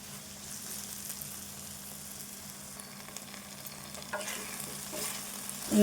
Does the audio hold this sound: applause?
no